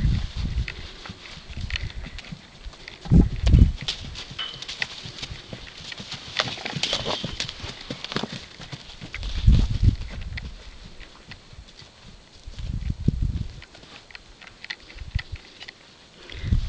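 A young black colt's hooves clip-clop at a slow walking pace under its first saddle, close by, with soft thuds and scuffs and no one talking.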